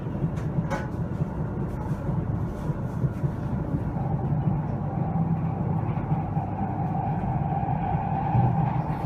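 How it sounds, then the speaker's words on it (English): Aboard a Japanese Shinkansen bullet train, a steady low rumble and hum of the moving carriage fills the cabin, smooth and continuous with a few faint clicks early on. "Welcome aboard one of the wonders of the modern world, Japanese Shinkansen."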